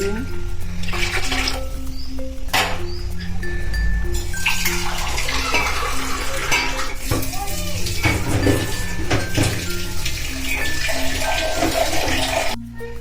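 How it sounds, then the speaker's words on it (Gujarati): Water pours steadily into a pan of cooked masala for a chaapdi taavo curry, a continuous near gush with clinks of a metal pot and utensils. "તો હવે આપણે નાખી દઈશું પાણી"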